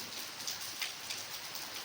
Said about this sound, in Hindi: बारिश लगी है।